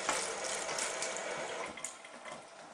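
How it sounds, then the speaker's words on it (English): Cold tap water pours in a steady broadband hiss over freshly drained pasta in a kitchen colander, close and continuous, with faint clinks mixed in and no talk. "If you like, you can run cold water through the pasta."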